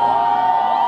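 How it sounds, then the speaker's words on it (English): A demolition derby crowd in Salmon, Idaho cheers and whoops, a loud, dense burst of many voices sustained through the whole short moment. "So if you think the Wonder Bread man has the hardest hit, cheer now."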